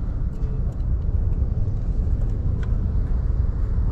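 Steady road traffic from a long queue of cars near Wadala RTO, a continuous low engine rumble and tyre noise that holds at an even loudness with no talk over it.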